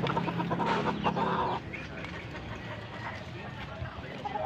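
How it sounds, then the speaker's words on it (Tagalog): Chickens cluck and chatter nearby in a noisy outdoor scene, with a brief voice at the start and steady background clatter. "Daming manok, oh."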